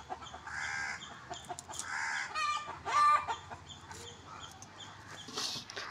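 A broody hen clucks repeatedly, close and loud, with rapid stuttering clucks and a few longer drawn-out calls breaking through the run of clucks.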